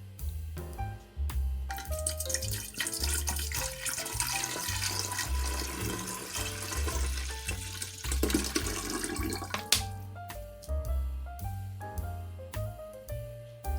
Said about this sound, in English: all I'm going to do now is pour some of my water on the bottom of